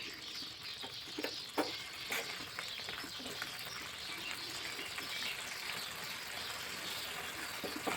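A pan of bean dish with sugar being stirred and sizzling quietly, soft irregular scraping clicks from the spoon over a constant faint frying hiss, close by and low in level.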